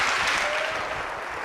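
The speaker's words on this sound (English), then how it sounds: "A round of applause for our first volunteer" A lecture hall audience gives a round of applause for a volunteer at a CS50 computer science lecture, dense steady clapping filling the room from start to finish.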